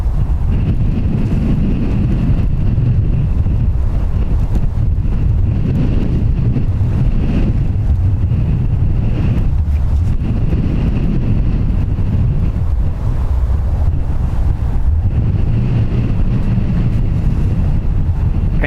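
Strong wind buffeting the microphone at Dublin Airport, a loud continuous low rumble and roar that never lets up.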